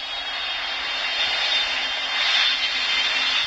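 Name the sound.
Boeing 747 jet engines in video game PTFS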